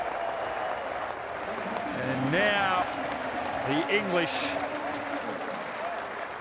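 A cricket crowd at a Test match in Pallekele, Sri Lanka, applauds and rises in a standing ovation for a 50 partnership, a broad steady wash of clapping swelling slightly while a commentator talks over it.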